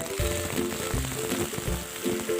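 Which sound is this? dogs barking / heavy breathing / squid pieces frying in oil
squid pieces frying in oil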